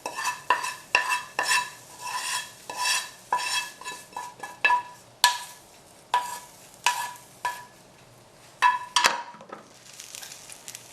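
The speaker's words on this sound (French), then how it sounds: "Dans un bol ou une assiette creuse, je vais mettre la courge spaghetti avec l'ail et l'échalote" Spaghetti squash being stirred with cooked garlic and shallot in a bowl, giving irregular clinks of a utensil against the dish and soft scraping, close and moderately loud, with no voices.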